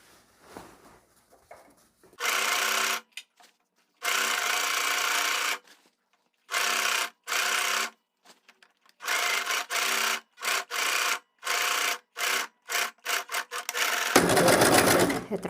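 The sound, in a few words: sewing machine stitching a skirt waistband seam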